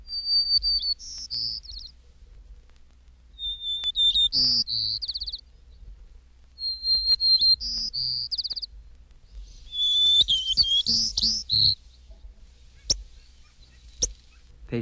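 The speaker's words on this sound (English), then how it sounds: "White Crown Sparrow" White-crowned Sparrow song, repeated several times: each phrase opens with a clear whistle and breaks into buzzy, trilled notes, loud and close, followed by a few sharp call notes, with no talking.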